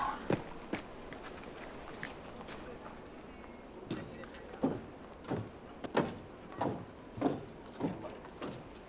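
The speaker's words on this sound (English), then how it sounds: "Let's go get the horses." Horse hooves clip-clop in a series of sharp, regular knocks on a road, growing more distinct and rhythmic in the second half, over a low background hum.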